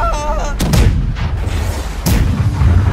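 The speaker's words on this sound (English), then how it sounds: "The cannon has been loaded." Ship cannons firing in the naval video game Blackwake, two heavy booming blasts about a second and a half apart with rumbling tails, loud and close amid game ambience.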